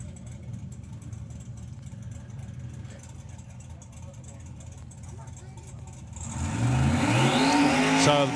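A six-cylinder BMW 335 drag car idles at a drag racing event, then the engine rises sharply into a loud rev in the final seconds, with a commentator talking over the whole stretch.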